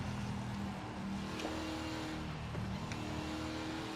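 A race car with an engine of about 4.5 litres runs in the racing game Project Motor Racing. It gives a steady, sustained engine drone at moderate level with no talk.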